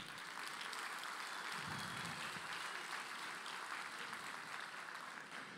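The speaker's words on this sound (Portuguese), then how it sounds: "Palmas para o Eduardo, pessoal." Warm, continuous applause from an audience at a business talk on boards and purpose, a steady wash of many hands clapping at even volume throughout with no speech over it.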